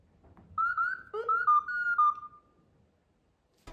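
A string of R2-D2-style astromech droid beeps and warbling whistles, bright and chirpy, rising and falling in pitch for about two seconds, then quiet.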